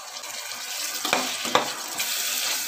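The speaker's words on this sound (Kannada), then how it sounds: "ಹುಣಸೆಹಣ್ಣಿನ ರಸ ಹಾಕೊಳ್ಳಿ." Tamarind juice is poured into a pan of frying green beans for chitranna. A steady sizzling hiss rises, with a few soft splashes and stirring sounds.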